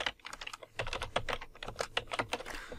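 Rapid typing on a computer keyboard, a dense run of crisp, close key clicks with uneven rhythm and no talking.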